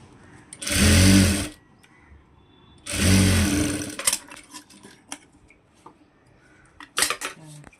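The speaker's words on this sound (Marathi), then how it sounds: "असे छान मस्तपैकी बारीक अशी दाब शिलाई देऊन घेऊया." A sewing machine running fine press stitching on a size-28 princess-cut blouse: two loud, steady whirring runs of about a second each, then light clicks and fabric handling.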